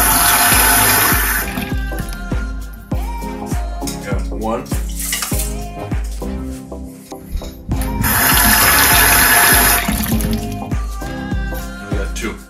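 Water pours from a tap into rice for cooking, a loud close rush that stops midway, with clinks and clatter of a pot and bowl before the flow starts again.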